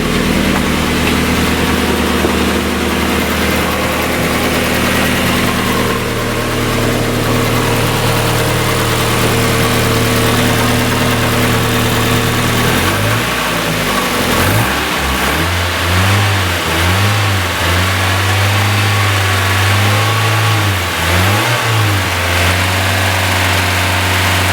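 A 1990-1997 Mazda Miata engine idles steadily at close range, then revs up and down in several rising and falling pulses, loud and alone without talk.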